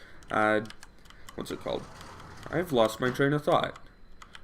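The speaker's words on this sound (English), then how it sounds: "How loud is my keyboard, by the way?" A loud computer keyboard clatters in quick bursts of typing under a man's speech, the clicks sharp and close to the microphone.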